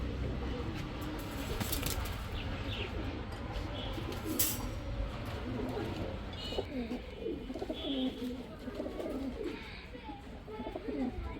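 Pigeons, among them a female flying pigeon, coo in soft, repeated low murmurs at a seller's loft, partly under someone talking, with faint traffic noise behind.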